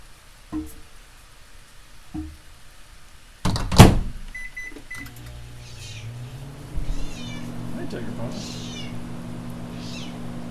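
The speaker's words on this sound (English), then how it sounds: "Sorry for the microwave noise." A steady low microwave oven hum runs under a cat's repeated meows, with a loud thump and clatter early on.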